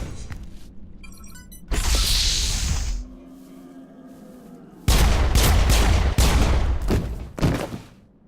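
Gunfire mows down Salarians in the Mass Effect sci-fi shooter, with loud, sustained bursts of rapid automatic fire broken by a quieter lull, then another heavy volley that fades out.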